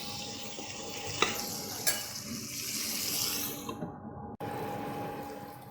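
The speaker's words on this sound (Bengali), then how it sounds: "এটাকে আমি এবার চাপা দিয়ে ভেজে নেব" Potatoes frying under a lid in a covered pan, a steady muffled sizzle with a few sharp pops and clicks, then a brief break near the end before the frying hiss resumes; no talking.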